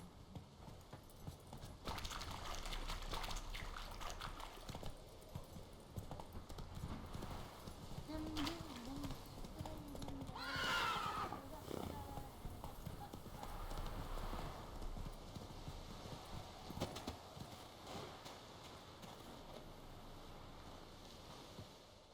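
Roach the horse trots with a steady clip-clop of hooves in The Witcher 3, over a bed of wind and surf, with a brief neigh near the middle. Voices talk intermittently over it.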